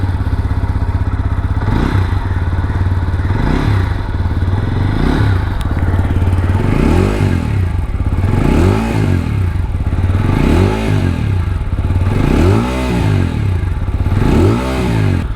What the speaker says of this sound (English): So this bike has got a punchy exhaust note,